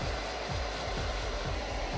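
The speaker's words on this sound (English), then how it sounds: "Here, we're just drying off the first coat with a hairdryer." A hair dryer blows steadily to dry a first coat of airbrushed paint on a model, giving a continuous, even whoosh with a faint rhythmic pulsing and no talking.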